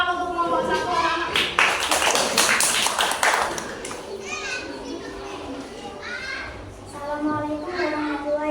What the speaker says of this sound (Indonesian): Tepuk tangan untuk kelompok 1 anak-anak.